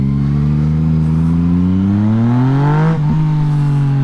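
A Yamaha MT-09 naked motorcycle's three-cylinder engine rises in pitch as it revs up through the gear, briefly dips at a shift, then settles into a steady drone, loud and close with no voices.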